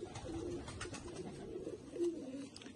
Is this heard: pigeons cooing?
yes